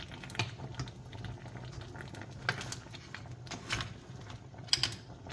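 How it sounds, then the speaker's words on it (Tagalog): Soft bubbling and popping of a thick creamy oyster sauce simmering, irregular little blips over a low steady hiss, close by with no talk. "ito at kumukulo na yung ating sauce"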